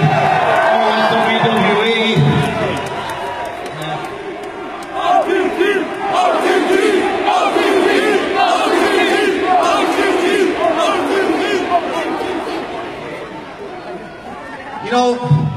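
Huge live WWE arena crowd in Dublin roaring and chanting continuously, loud and sustained with swelling cheers, while a voice addresses them over a microphone.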